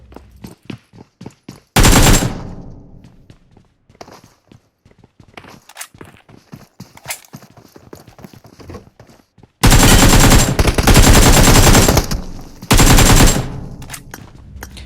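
Automatic gunfire from PUBG Mobile, a loud burst near two seconds, then long sustained rapid bursts from about ten to fifteen seconds, with lighter clicks and footsteps in between; no talking.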